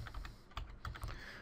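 Fingers tap a computer keyboard while entering a command, giving soft, quick, irregular clicks that sound close but quiet.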